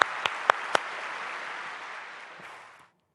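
Steady applause from a crowd fills the space, with a few sharp claps standing out at the start before it fades away.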